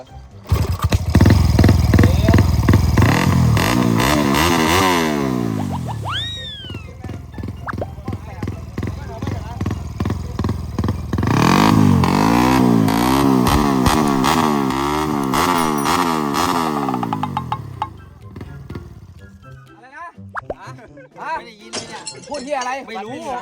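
A four-valve motorcycle engine revs repeatedly, rising and falling in loud bursts, with people talking in Thai over it close by.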